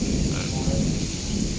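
Heavy rain pours in a dense, steady hiss while a low thunder rumble rolls underneath, close and loud throughout, during a prolonged downpour with flood risk.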